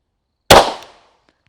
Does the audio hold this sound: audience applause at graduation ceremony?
no